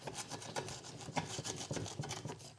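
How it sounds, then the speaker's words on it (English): A hand saw runs around the inside edge of a pot to free the roots of a hollowed wild bottlebrush, giving quiet, repeated rasping scrapes in an irregular rhythm close by. "These saws are handy to just run around the edges."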